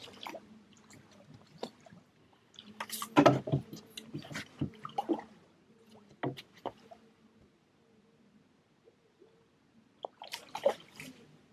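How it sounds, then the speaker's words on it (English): Splashing in the water at a carp fishery, with several irregular bursts of sloshing and dripping close by, separated by quieter gaps and low background hum. "Is that you splashing around?"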